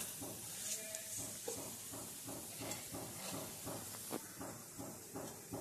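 Cumin seeds sizzle in hot tempering oil while coconut chutney is cooked, giving a steady, soft hiss and crackle with small popping ticks throughout.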